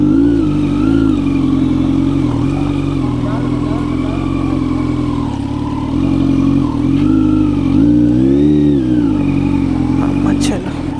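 A Kawasaki Z900 motorcycle on an off-road trail near Tirumala runs loud and continuous, its engine note rising and falling with revs, while a voice speaks over it.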